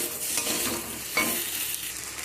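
Boiled potatoes are stirred into spices in a hot pan, a steady close scraping and sizzling with a few louder sweeps of the spatula, no voices.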